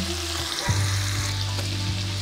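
Close, steady sizzling of onions frying in butter in a hot pan, with a low hum underneath and a brief stirring clatter partway through.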